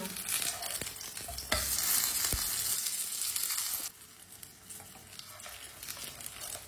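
A matar paratha fries in a pan on a stove, sizzling steadily with crackling oil and bursts of louder spitting, and briefly quieter patches as the bread is turned.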